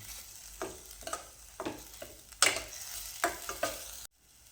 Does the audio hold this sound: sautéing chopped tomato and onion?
yes